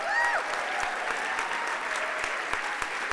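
Sustained audience applause at the LitFest Gala fundraiser, a dense wash of many hands clapping steadily throughout, with a faint voice near the start.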